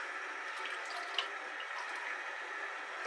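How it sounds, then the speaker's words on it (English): Water trickles and drips onto a shaving brush at a bathroom sink, a faint, steady running wash with a few small splashy drips, close and alone. "Just gonna add a little bit of water to the brush to get it started."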